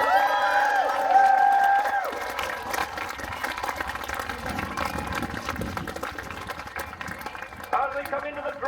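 An air show crowd cheers and applauds in a loud burst that tapers into scattered clapping and chatter, with an announcer's amplified voice over the start.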